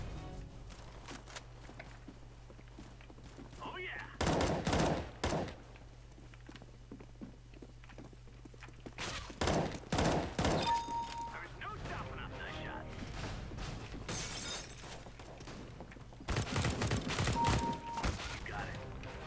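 Counter-Strike: Global Offensive gunfire in an arms race match: several loud, close bursts of rapid shots separated by quieter stretches, with a player talking in between.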